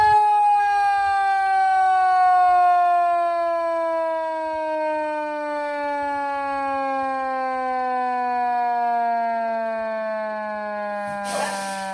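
A fire truck siren wails in a long, steady tone that slowly drops in pitch, loud and close, ending with a brief burst of noise near the end.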